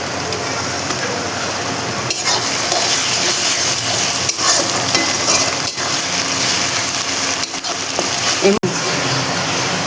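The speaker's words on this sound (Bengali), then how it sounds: "এখন আমি এর মধ্যে মশলাটা দিয়ে দেবো, আদা রসুন জিরে ধনে কাঁচা লঙ্কা যে বাটা হয়েছে সেই পুরো মশলাটা আমি দিয়ে দেবো" Ground paste of ginger, garlic, cumin, coriander and green chili hits onions frying in oil, giving a loud, continuous sizzle with scraping stirs and occasional clunks of the spoon.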